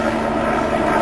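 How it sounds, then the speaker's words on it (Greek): A helicopter flying nearby gives a steady, fairly loud rotor and engine drone through a short stretch with no speech. "Έτσι πάει ρε φίλε με το ελικόπτερο."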